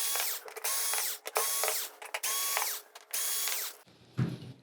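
Power screwdriver whirs in repeated short bursts while backing out screws from a Samsung UN46D7000 LED TV's power supply board, close and loud with brief pauses between runs, ending in a low clunk.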